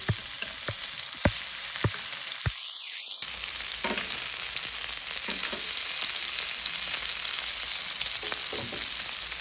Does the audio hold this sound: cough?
no